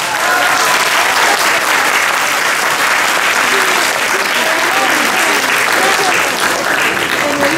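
Loud, steady audience applause for a young pianist at a neighbourhood piano recital, continuous clapping from a large crowd with faint voices underneath.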